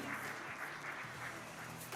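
Applause from an audience at a startup event, a brief dense patter of clapping hands heard at a distance in a large hall.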